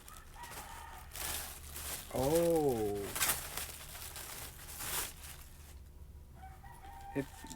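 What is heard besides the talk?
chicken noise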